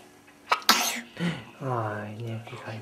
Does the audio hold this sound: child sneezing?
yes